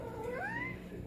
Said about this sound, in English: She's a vocal cat